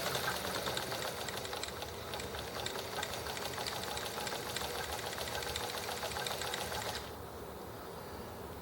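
A sewing machine runs steadily through a straight stitch, its fast rhythmic needle clatter continuous and fairly close for about seven seconds before the motor cuts off and only faint background remains.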